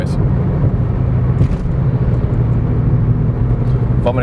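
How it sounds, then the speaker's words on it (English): A 2003 Nissan Sentra SE-R on the road gives a steady low droning hum from a worn wheel bearing, blended with engine and road noise throughout. "There's the wheel bearing noise."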